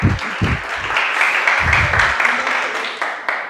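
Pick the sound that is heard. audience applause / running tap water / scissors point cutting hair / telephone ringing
audience applause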